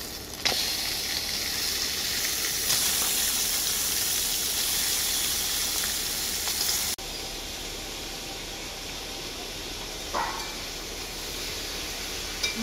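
Desi country chicken sizzles loudly and steadily as it is fried in a spice paste, a continuous hissing frying sound that eases a little partway through, with a faint click near the end.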